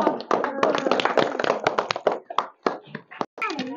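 A group of village girls claps hands in a rapid burst of close, sharp smacks that thins toward the end, with talk mixed in.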